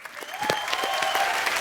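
Studio audience applause for Shilpa and Raj on The Kapil Sharma Show, a steady dense wash of clapping with faint tonal voices and music lines threading through it.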